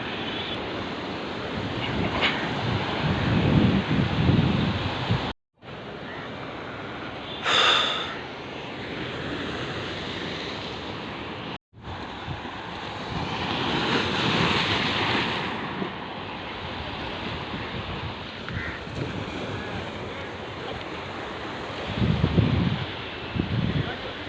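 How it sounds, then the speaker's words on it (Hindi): Sea waves crash and wash against the rocks along the Bandstand shoreline in Mumbai, with a loud, continuous roar of surf and gusts of wind buffeting the microphone, and brief dropouts in between. "ये देखिए दोस्तों, पहाड़ में लहर मार रही है चोट।"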